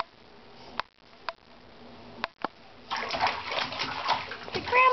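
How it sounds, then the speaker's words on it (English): A small child splashes water in a bathtub, with a few sharp knocks early on, then a burst of lively close splashing and sloshing toward the end. "I love taking a bath."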